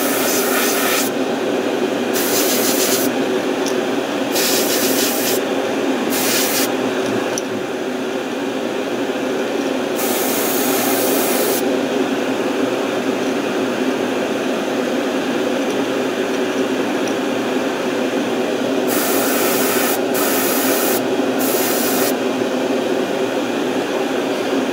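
An airbrush sprays paint onto a crankbait fishing lure in repeated short hissing bursts, then longer spells, over a steady background hum of a compressor or room noise, close and fairly loud.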